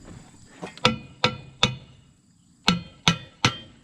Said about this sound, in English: Here, try giving it a couple more taps.